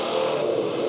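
Monster truck engine in the video game Rigs of Rods, a loud continuous revving drone held steadily through the short moment with no voices.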